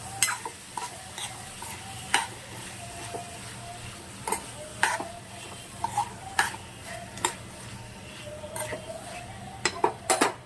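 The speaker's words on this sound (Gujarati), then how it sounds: "પ્રોપર રીતે હલાવી લઈશું।" Onion, potato and tomato curry is stirred in a pan, with a soft background sizzle and repeated sharp clinks and scrapes of a utensil against the pan at an irregular pace.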